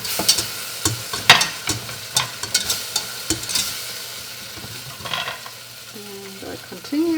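A whisk scrapes and clicks against a pot as broth is worked into a chicken pot pie sauce, with irregular metallic taps and stirring swishes, close and moderately loud, and no talking.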